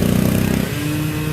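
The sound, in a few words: mini bike engine passing by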